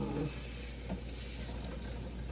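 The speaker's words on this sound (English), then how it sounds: "Then I'm frying up this bacon right now." A soft, steady sizzle of bacon frying in a pan, continuous and fairly quiet, with faint clinks and background sounds of water boiling.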